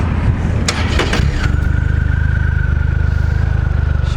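A Triumph Rocket III motorcycle engine cranks with a few sharp clattering bursts, then catches and settles into a loud, rapid, even idle with a fast throbbing pulse, close up and with no talking.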